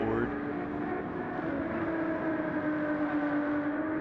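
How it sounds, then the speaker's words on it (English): A Ford race car engine drones steadily on the out lap at Watkins Glen in a racing video game, its tone holding constant and moderately loud with a slight rise in pitch, while a commentator talks over it. "It looks like little Jacob is leading the field here on the outlap in the team.com Ford"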